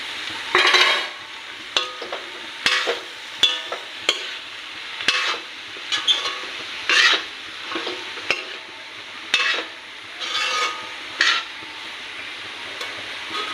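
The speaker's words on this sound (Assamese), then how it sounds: "নৰসিংহৰ পাতকেইটা দিলোঁ, দি অলপ লাৰি দিলোঁ। যিহেতু মই কমকৈ দিছোঁ, একেলগে চয়াবিনখিনিও দি দিলোঁ।" Curry leaves and soybean chunks stirred in a pan, repeated scraping and clattering strokes at an uneven rhythm over a soft sizzle, close and clear, with no talk.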